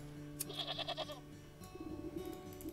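A goat in the video game Wytchwood bleats in a short wavering cry, followed by a second quieter bleat, faint over a steady tonal game background.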